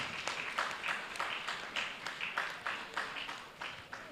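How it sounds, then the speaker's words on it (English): Fairly faint applause from an audience at a career job fair, rhythmic clapping in a roughly steady beat, slightly distant, with no speech over it. "Keep the applause coming, please."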